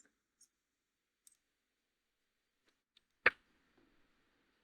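One sharp, loud click of the Enter key on a computer keyboard stands out in near silence, preceded by a few faint, sparse taps.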